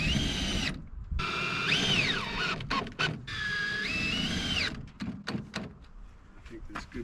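Screws are driven into a casement window frame with a power drill in a post-and-beam house, in several short whirring bursts that rise and fall in pitch. Knocks and people talking come in between the bursts.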